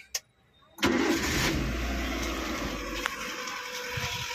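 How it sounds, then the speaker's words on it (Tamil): A 2019 Maruti Eeco van engine cranks and catches after a brief quiet moment, then settles into a steady, close idle that runs to the end. "ஹேண்ட் பிரேக் எடுத்து விட்ருவோம். வண்டியை ஸ்டார்ட் பண்ணுவோம்."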